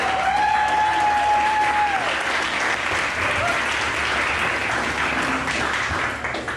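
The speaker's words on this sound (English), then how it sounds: "let's give a warm round of applause for Jackson Andrews" A warm round of applause from an event audience welcoming speaker Jackson Andrews to a YafTalks stage: loud, dense clapping held steady for several seconds before starting to thin out at the end.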